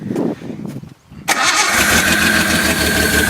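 A 1974 Datsun 260Z engine cranks briefly, stumbles, then catches and roars into a loud, steady run close by.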